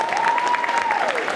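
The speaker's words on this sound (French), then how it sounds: "si on peut l'applaudir s'il vous plaît" An audience at a cosplay contest applauds a sign language interpreter in a steady, dense burst of clapping, with a voice carrying over the top throughout.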